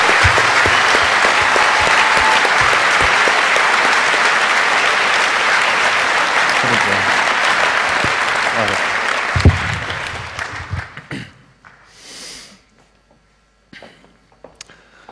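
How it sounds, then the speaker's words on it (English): A large hall audience at the 24C3 closing event gives the NOC team a long, loud round of applause for about ten seconds, then it dies away into scattered claps, shuffling and near silence. "one final round of applause for the rest of your NOC team"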